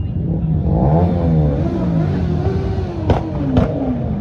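A car engine at a rally meet revs hard, its tone sweeping up and down, then two sharp ignition backfire cracks pop out near the end, loud and close with no voices.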